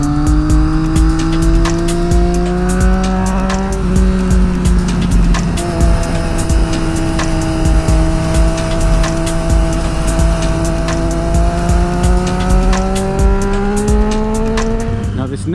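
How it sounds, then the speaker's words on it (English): A car is driven fast through an S-bend on Middle Road between Afton and Newport. Its engine drones loudly and steadily, with pitch dips and rises through the bends, tire noise over the top, and sharp clicks scattered throughout. "you're about to blast it through that S-bend up there"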